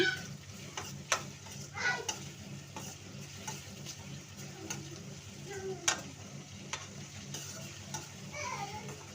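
Oil-fried brinjal (eggplant) curry, ennegayi palya, sizzles softly in a home kitchen pan, with a steady low crackle broken by occasional scrapes and taps of a spoon stirring against the pan.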